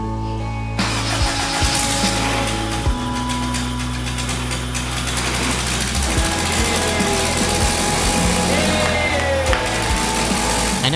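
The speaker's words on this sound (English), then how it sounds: "This confirms that the engine is good, and we got the car to fire up." A K-swapped Mazda FD RX-7 with no tune loaded cranks and fires up close by, then runs loud and rough with an uneven, lumpy idle through to the end.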